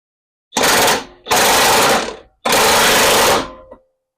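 A power socket tool tightening steering box bolts under a vehicle, running in three loud, sustained bursts of whirring rattle separated by short pauses, very close and dominant, with no talking.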